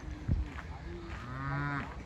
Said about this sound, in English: moo, cows over here